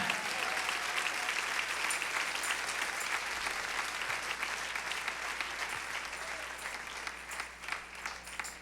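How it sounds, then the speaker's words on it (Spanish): Church congregation applauding during a sermon, a broad, steady patter of many hands clapping that carries on for several seconds at moderate level, slowly thinning toward the end. "Denle un aplauso al Señor."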